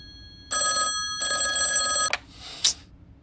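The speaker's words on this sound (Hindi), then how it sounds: "अरे ये फोन भी ना कभी भी बज जाता है।" A telephone bell rings loudly in two long bursts with a short gap, followed by a brief clatter, as if the receiver is picked up.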